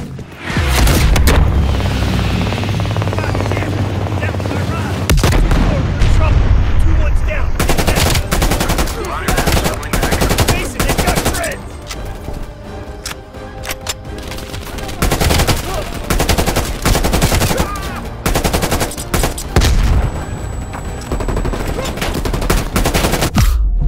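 Heavy gunfire in the video game Call of Duty Black Ops Cold War: loud, dense automatic bursts and booming blasts that run almost without pause, rapid cracks stacking over one another.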